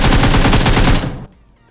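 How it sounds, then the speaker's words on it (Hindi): AKM rifle fire in the PUBG Mobile video game, a loud, rapid automatic burst of about a second that cuts off abruptly into a short fading tail. "तो मैंने AKM का प्री फायर दिया"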